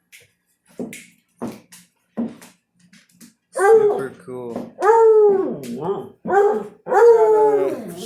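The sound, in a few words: dog Ruby howling and barking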